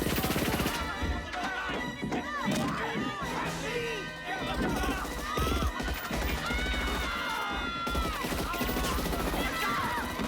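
Gunshots ring out aboard Air Force One amid loud, chaotic sound with shouting voices, crashing noise and commotion throughout.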